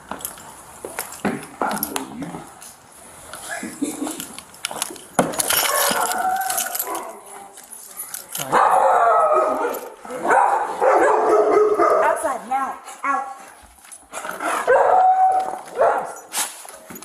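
Dogs at a house bark in loud, excited bursts mixed with yips and whimpers. The barking comes and goes, and a person speaks briefly between the barks.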